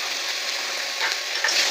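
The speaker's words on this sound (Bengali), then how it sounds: "আমরা আবার ভাজা ভাজা করে নেব, যাতে মশলাটা আমাদের ভালো মতন কষে যায়" Masala with turmeric and salt fries in oil for a tilapia curry, a continuous close sizzle with faint stirring scrapes, brief and without talk.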